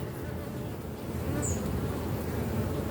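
A dense, steady drone of many honeybees buzzing close by at the hive, loud and continuous.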